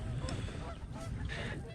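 Birds near the mouth of a creek give a few muffled honks over a low, rumbling wind-like background, faint and somewhat distant.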